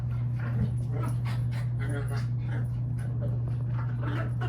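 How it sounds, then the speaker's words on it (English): Several dogs play together indoors, giving soft whimpers, yips and panting over a steady low hum, with brief short barks scattered through. "excuse my dogs, they're having a really good time."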